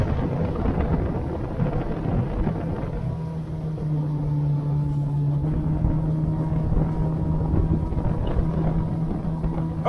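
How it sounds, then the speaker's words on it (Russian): Wind gusting over a GROM EVO 350 motorboat planing on open water, a steady roar with rumbling low turbulence and a droning engine tone running beneath it, loud and continuous throughout. "Ох, какой хороший порыв ветра."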